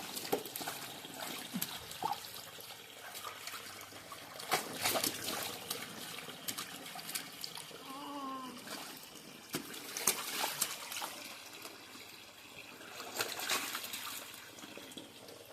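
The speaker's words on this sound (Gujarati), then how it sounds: "બંધ કરી દે નળ હવે" Tap water runs and splashes during hand-washing of clothes in a village home, a steady trickling stream with louder clattering bursts, close by and without speech.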